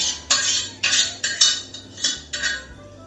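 A utensil scrapes cheese sauce out of a greased pan for baked mac and cheese: about seven close, loud, rhythmic metallic scrapes with short pauses between them.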